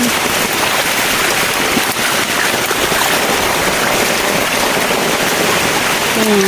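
Steady, dense rushing of heavy typhoon rain in the Philippine countryside pours without pause, a loud continuous wash of water with no gaps.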